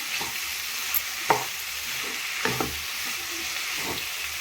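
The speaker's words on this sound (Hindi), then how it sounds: "तो मिर्चें को अच्छी तरह से चला दें, ऊपर नीचे कर दें मसाला।" Chillies being stirred into frying masala in a pan, a steady close sizzle with a few scraping stirs of the spoon breaking through at intervals.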